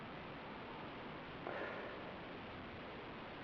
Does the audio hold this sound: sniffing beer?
yes